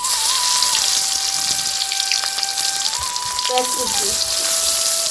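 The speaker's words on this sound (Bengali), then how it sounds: "তেলটা গরম হয়ে গেছে, দিয়ে দিব তেজপাতা, রসুন কেটে," Bay leaves and cut garlic frying in hot mustard oil, a steady close sizzle and crackle running throughout, with a sustained tone wavering in the background.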